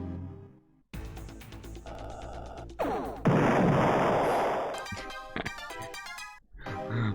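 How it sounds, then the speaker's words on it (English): Ship explosion from the space video game Star Control 2: a loud burst of crashing, crackling noise rises mid-clip, decays over about a second, and sits among other electronic game effects. "I like the sound of the exploding ship."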